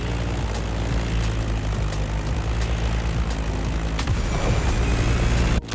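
Propeller drone of a Stagger Wing biplane flying above an open-world racing playground in The Crew Motorfest, a steady, loud engine hum with a low rumbling tone that holds throughout, ending in a brief sharp cutoff.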